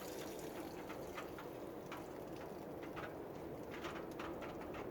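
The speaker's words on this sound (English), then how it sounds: "I got my running water right here." Running water from a kitchen tap, a constant hissing splash that fills the background evenly and quietly, with faint cooing birds mixed in and no talking.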